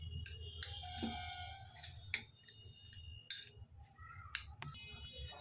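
A spoon stirs coloured raw papaya pieces in a bowl, one spoon kept for each colour, giving sparse, irregular clinks and light ticks of metal on the bowl rim with quiet gaps in between.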